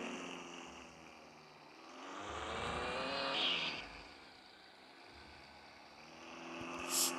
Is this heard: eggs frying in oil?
no